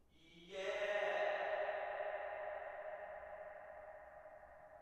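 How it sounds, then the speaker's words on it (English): A swelling, reversed reverb wash builds into a sustained tonal vocal pad that slowly fades, smooth and airy with no clear words. "we're going to have that trail come in reversed when this regular vocal starts"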